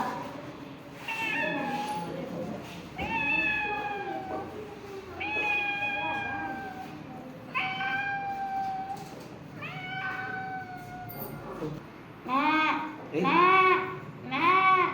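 A voice imitates a kitten, giving a string of high, drawn-out meows one after another, ending with quicker, bunched mews.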